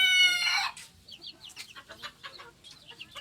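A one-year-old Serama show-type rooster crows loudly and close, followed by a run of rapid, uneven clucks and chirpy calls, with no talk over it.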